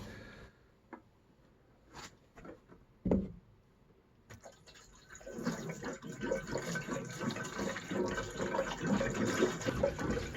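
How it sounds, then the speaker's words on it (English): Fuel poured from a can into a tank: a few quiet seconds with scattered knocks, then a steady, close gurgling stream of liquid that runs to the end. "I'm going to put some fuel in my tank and I'm going to prime this."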